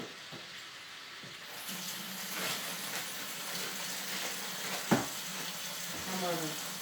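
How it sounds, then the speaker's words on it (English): Cold tap water runs steadily into a kitchen sink during home cooking, a broad, even rush that starts a couple of seconds in and continues to the end, with a few small clinks of dishes mixed in. "Now we're going to put cold water on."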